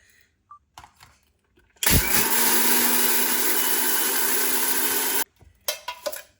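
An electric grinder pulverizes rice into powder for Peshawari kheer, a loud steady whirring roar running about three and a half seconds with an abrupt start and stop, framed by quiet handling clatter before and after.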